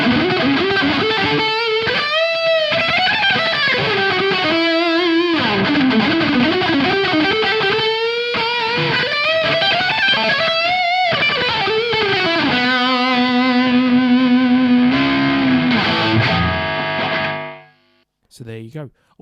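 A guitar played through a Marshall JCM1C 1-watt tube amp with a Tube Screamer pedal delivers a driven, distorted riff of sustained notes and bends, ringing out loud and steady before cutting off near the end.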